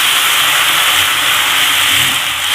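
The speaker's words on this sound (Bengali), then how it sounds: "আন্দাজ মতন কুমড়োটা সেদ্ধ হওয়ার মতন জল দেবো" Water hits a hot pan of frying pumpkin, producing a loud, steady hissing rush of steam that fills the whole moment without pause.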